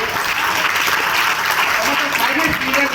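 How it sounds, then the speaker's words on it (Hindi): A crowd at a direct-selling business seminar in India claps loudly and steadily for a full stretch, a thick wash of applause without pause. "एक बार जोरदार तालियां"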